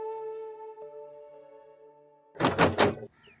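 Knocking on a house door, a short cluster of about three loud raps that follows a quieter stretch of steady tonal background music.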